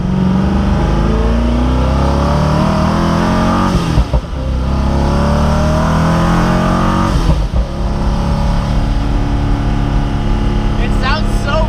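A Koenigsegg Agera RS engine roars loudly as it accelerates, pitch climbing through gears with brief dips at shifts, heard from close inside the car.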